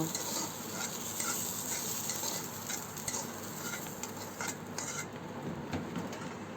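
Fried potatoes being lifted out of a frying pan, with steady sizzling from the hot oil and scraping and stirring clinks of a utensil against the pan, continuous and close.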